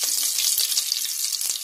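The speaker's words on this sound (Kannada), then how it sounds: "ಬೆಳ್ಳುಳ್ಳಿ ಇಷ್ಟ ಇದ್ರೆ ಬೆಳ್ಳುಳ್ಳಿ ಹಾಕೊಳ್ಳಿ" Garlic tempering for dal sambar sizzling hard in hot oil, a dense, bright, steady crackle with small pops, close and loud throughout with no one speaking.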